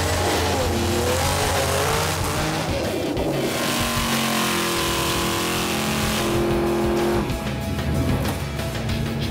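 Drag race cars launch together off the line at an organized race event, loud and close, with engines roaring and revving through rising gear pitches and tires squealing, the roar fading after several seconds.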